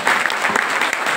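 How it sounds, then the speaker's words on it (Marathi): A kirtan audience claps briefly in a loud, close burst of quick, overlapping claps lasting about a second. "पण जरा टाळी वाजवली पाहिजे"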